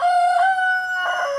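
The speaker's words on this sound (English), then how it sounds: "I'm sure you can hear Abraxas, the rooster, in the background. For some reason, he's making a lot of noise today" A rooster crows once nearby, a long clear tonal call with a rising then sustained and falling shape, loud and alone against a quiet background.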